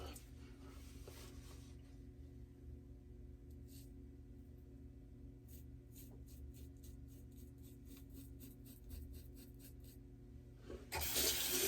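During a shave, a razor is rinsed under a running bathroom tap; the room stays quiet with faint taps and clicks, then a sudden rush of water pours loudly at the very end.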